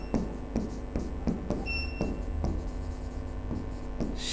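Handwriting with pen or chalk, several short distinct strokes at an uneven pace over a steady background hum, close and fairly clear, with no speech.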